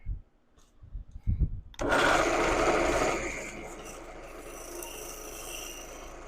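Wood lathe cutting through punky, partly decayed wood: after a few soft knocks, a loud broadband scraping rasp starts abruptly and holds steady, easing slightly to a continuous whirring cut.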